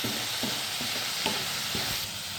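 Ponnanganni spinach fries in a pan with a dense, steady sizzle, and a spatula stirs it every half second or so with soft, muffled scrapes.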